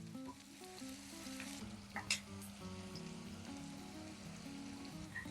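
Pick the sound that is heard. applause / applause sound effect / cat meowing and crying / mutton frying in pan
mutton frying in pan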